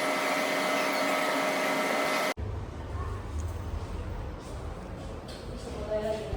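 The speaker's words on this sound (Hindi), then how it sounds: "डाइसन का हैंड ड्रायर लगाया वॉशरूम में।" A Dyson hand dryer in an airport washroom roars with a loud, high-pitched whine for about two seconds, then cuts off abruptly, leaving broadband room noise with voices in the background.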